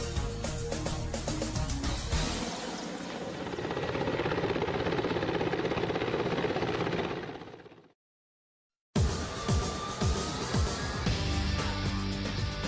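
A Russian Mi-35 attack helicopter thuds steadily with a loud rotor chop and engine whine. The sound cuts to a second of silence, then resumes with close, rattling mechanical noise.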